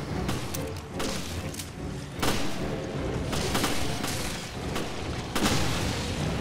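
Explosions and heavy gunfire in Resident Evil: Revelations pound out in repeated loud booms and thuds over dense, constant combat noise, close and intense.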